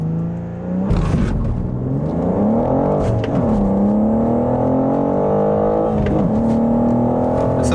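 BMW G87 M2 accelerating hard on a timed run, heard from inside: engine pitch climbs repeatedly with sharp drops at each gear shift, loud and close, with no talking.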